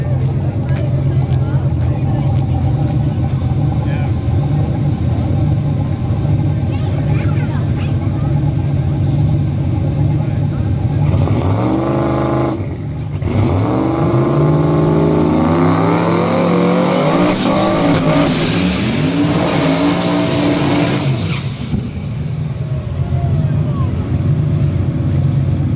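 No-prep drag race cars roar loudly off the line, engines rising in pitch as they accelerate hard and shift, a sustained near rumble building to a screaming crescendo, with spectators talking and shouting throughout.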